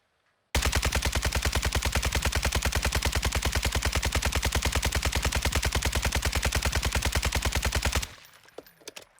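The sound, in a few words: RPK rifle firing full magazine, video game Call of Duty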